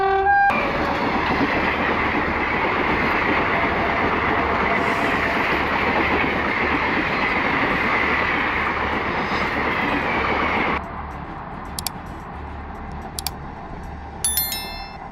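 A train rushes loudly along the tracks, a continuous close roar of rail noise that drops off sharply near the end, followed by a few faint clicks.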